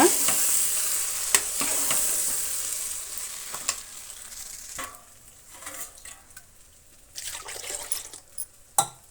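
A spoon stirs and scrapes through a thick mixture in a pot over a soft sizzle, with intermittent clinks and scraping strokes, fairly close.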